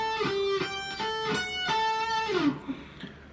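Electric guitar picks the intro slowly, a steady run of clear, sustained single notes in an even rhythm that ends with a bend and decays, played alone at moderate volume.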